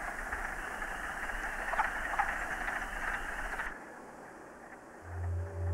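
Wood frogs in the Algonquin forest call at night in a dense, continuous chorus of clucking croaks that cuts off abruptly, leaving low hum and faint rustle.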